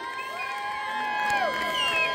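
A crowd cheers and whoops at a college fresher party, a steady, lively roar with a few high shouts rising over it across about two seconds.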